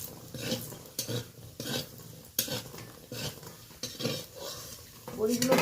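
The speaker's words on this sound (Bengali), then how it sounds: "মাছ ভাজার পরে অনেকটা তেল রয়েছে, ওই তেলেই আমি বড়িটা বেশ ভালো করে ভেজে নেব।" Lentil dumplings (bori) fry in leftover fish oil in a kitchen, with clattering utensils and stirring scrapes against the pan over a soft background sizzle, close and moderately loud.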